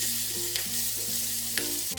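Fish frying in a pan for banana-leaf roasted fish, a steady close sizzle of oil with two brief scraping stirs, and no talk.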